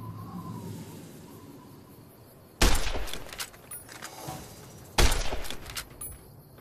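Two loud, sharp gunshots ring out in the video game Fallout New Vegas, a couple of seconds apart. Each has a ringing, rattling tail over a quiet background.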